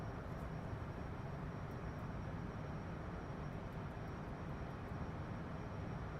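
Steady, dull drone of an airplane engine in a flight video game after a steep takeoff, a constant broadband rumble that stays even and fairly quiet throughout.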